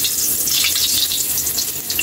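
Ginger fries in a hot pan, giving off a loud, continuous hiss and crackle that stays steady from start to finish with no voices over it.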